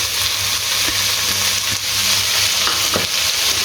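Finely chopped capsicum and carrot sautéed in a hot pan, a loud continuous sizzle with occasional soft scrapes of stirring, close up and with no talking.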